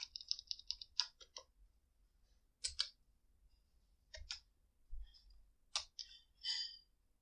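Computer mouse clicking at a desk, quick bursts of crisp close clicks, some rapid runs and some single taps with short pauses between, otherwise quiet.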